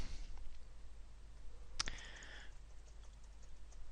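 A single crisp mouse click sounds once in a quiet room while working in Microsoft Excel 2010, followed by a faint tail against steady low hiss.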